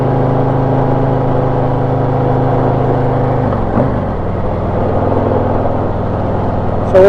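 Motorcycle fitted with a FuelMoto exhaust insert pulling hard in 2nd gear, a loud deep drone that holds steady, then briefly shifts pitch midway before droning on, close to the machine with no talking.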